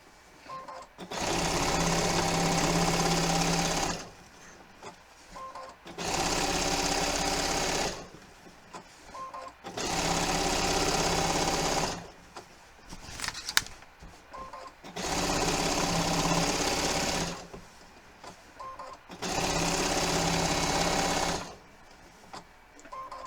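Sewing machine running basting stitches on a quilt, five steady mechanical whirring runs of about three seconds each separated by short pauses, close and clear, with no talking.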